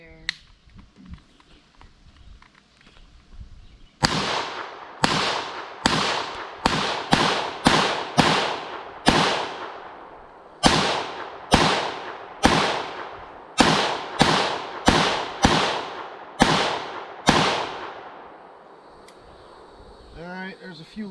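FN PS90 bullpup rifle firing outdoors, a series of sharp, loud single shots at uneven intervals, some in quick succession, each ringing out with a short decay.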